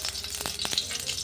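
Spoonful of ghee melting and sizzling in a hot kadhai on a gas flame, a steady soft crackle with a few brief utensil scrapes, close and alone with no voices.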